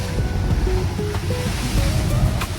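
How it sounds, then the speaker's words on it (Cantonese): Steady rushing water roars loudly and continuously, a strong jet of hot water from a geyser along a hot-spring river at Noboribetsu, Hokkaido, with a faint voice briefly underneath. "它利用了從地獄谷流出的溫泉河沿岸的間歇泉"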